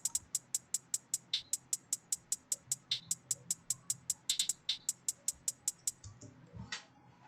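Two trap hi-hats from a drum kit play together, a quiet lower one filling the gaps of a brighter one, forming a dense, steady rapid ticking that stops abruptly near the end.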